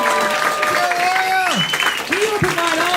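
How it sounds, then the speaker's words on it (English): A live podcast audience claps and cheers for sponsor Joe Earl of an insurance services company, a steady burst of applause with voices whooping over it. "clap it up for Joe"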